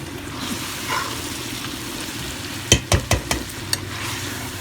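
Potato and cauliflower being mixed in a frying pan, a low steady sizzle broken by a quick run of four or five sharp spatula knocks and scrapes against the pan, close by.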